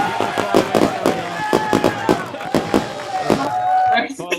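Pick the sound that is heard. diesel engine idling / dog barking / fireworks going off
fireworks going off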